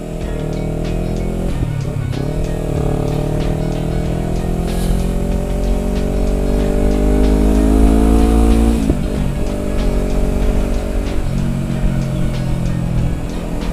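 A manual-clutch motorcycle engine shifting down into second gear, loud and close, its droning harmonic whine dropping and climbing in pitch with each gear change and rev.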